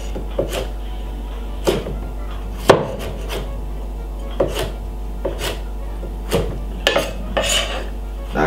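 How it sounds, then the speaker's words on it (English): A big knife chops through coconut on a cutting board in a home kitchen, about a dozen sharp, irregular knocks up close over a low steady hum. "all what I'm going to do now is cut up the coconut like this"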